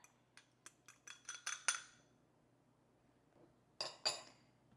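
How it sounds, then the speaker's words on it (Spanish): Egg white whisked in a bowl for a cuban puff pastry recipe, a quick run of bright metallic clinks speeding up, a short pause, then another brief burst of whisk strokes against the bowl, close and fairly quiet. "Vamos a batir por separado la clara"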